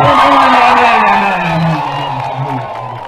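Crowd cheering and whooping at a church meeting, loud and close, with a sustained swell of voices and a prominent voice holding a tone that gradually fades.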